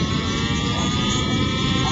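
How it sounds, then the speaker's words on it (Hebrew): A Raptor 60 radio-controlled model helicopter in flight, giving a steady, loud, high-pitched engine and rotor whine that drones continuously without a break. "מסוק, יש לציין, מתנהג כמו מסוק אמיתי, קשה מאוד להטיס אותו"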